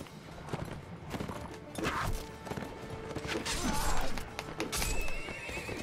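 A horse whinnies in a Mount & Blade: Warband battle, the neigh rising over scattered thumps, clatter and hoof sounds. It is fairly quiet and mid-distance amid the background commotion.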